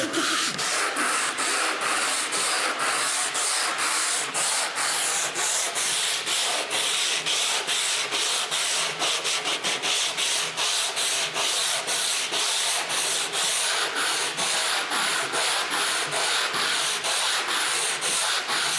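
Hand sanding across the epoxy surface of a handmade ski in a Bavarian ski workshop, a continuous rhythmic rasping scrub with quick repeated strokes, close and steady for the whole stretch, without speech.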